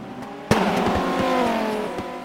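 Race cars colliding in the racing game rFactor during a Viper Cup race: a sharp impact thump followed by a loud, sustained engine drone with tire noise, no voices.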